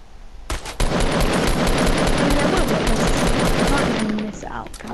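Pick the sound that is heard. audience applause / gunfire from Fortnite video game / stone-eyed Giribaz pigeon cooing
gunfire from Fortnite video game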